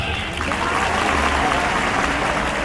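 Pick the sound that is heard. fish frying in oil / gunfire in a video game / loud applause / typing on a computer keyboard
loud applause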